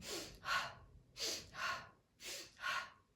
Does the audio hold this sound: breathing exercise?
yes